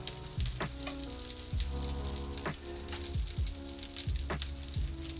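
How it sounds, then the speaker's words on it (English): Food sizzling in a skillet while making pizza, a steady close frying hiss with a few sharp clinks and scrapes of a utensil, no voices. "I'm going to transfer these to our skillet."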